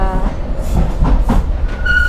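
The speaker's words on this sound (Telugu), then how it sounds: "అయ్యో ట్రైన్స్ అడ్డొచ్చేస్తున్నాయండి" Trains rumbling past in London, a loud, close rolling rumble with clattering wheels and a faint squeal near the end, with no talk over it.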